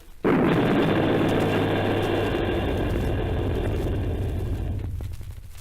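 A wartime artillery blast from an old radio drama, opening with a sudden burst that swells into a long, heavy, roaring rumble and sustains for several seconds before fading.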